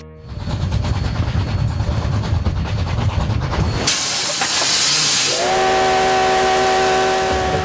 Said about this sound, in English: A coal-fired steam train rumbles through the wide-open prairie of the American West.